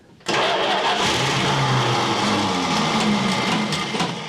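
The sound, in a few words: 1970 Dodge Charger engine cranking and starting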